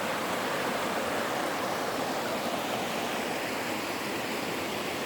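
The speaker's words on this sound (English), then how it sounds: "So this is the creek from over here." Creek water flows steadily at a nature park, a dense, unbroken rushing wash that stays even and close throughout, with no voices.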